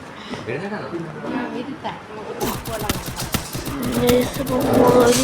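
Rapid gunfire from the Free Fire battle game crackles in sharp repeated bursts under a player's excited talking, growing busier and louder toward the end.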